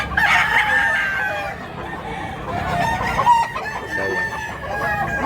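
Many chickens cluck and roosters crow over one another throughout a crowded poultry market in Mantalungon, Cebu, a dense close chorus with a single brief spoken word.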